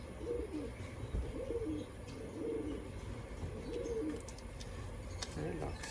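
Racing pigeons at a loft during a training flight coo low and repeatedly in soft, rolling phrases, close by, over steady outdoor background noise.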